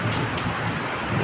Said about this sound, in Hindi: देखो फिर की बारिश आ रही है।